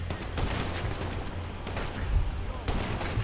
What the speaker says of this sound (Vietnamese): Cầm sniper bắn cái kiểu.